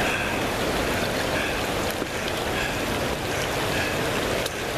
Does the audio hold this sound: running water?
yes